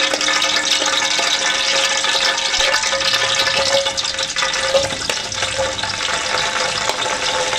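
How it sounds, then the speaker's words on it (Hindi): Sliced onions hit hot ghee in a pan for a potato and eggplant sabzi, giving a steady, close crackling sizzle that holds evenly throughout with no voices. "घी हमारा गर्म हो गया तो इसके अंदर भी प्याज डालेंगे"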